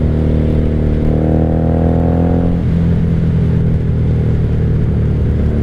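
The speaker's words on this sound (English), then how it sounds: "this bike runs like a champ now" A 1997 Honda Magna 750 (VF750C) cruiser engine idles steadily up close, its tone rising briefly as it revs, then dropping back to a lower, even idle.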